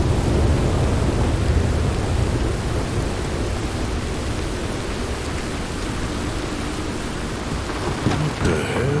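Thunderstorm in Red Dead Redemption 2, heavy rain hissing steadily with deep rumbling thunder rolling underneath, loud and continuous throughout.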